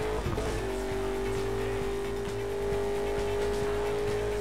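Car driving in Burnout Paradise Remastered on PS4 Pro, the car badly damaged: a constant loud engine hum with tire squeal and rattling thumps, running without break.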